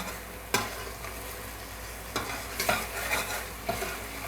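Masala fries in a pan for a potato pakora curry, a soft sizzle broken by a few sharp scraping and clanking stirs of a spoon against the pan, quiet and close.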